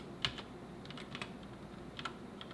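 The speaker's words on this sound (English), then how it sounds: "I have an actual keyboard in front of me." Light, scattered keystrokes on a computer keyboard, a handful of quiet clicks at uneven intervals with no talking.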